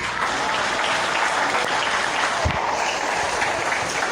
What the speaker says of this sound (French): Acclamez mon Dieu plus fort.